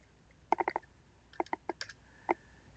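Keys tapped on a computer keyboard: a quick burst of four clicks, a second cluster of several, then a final single keystroke, close and crisp against a quiet room.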